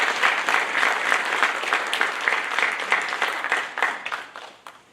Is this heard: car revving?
no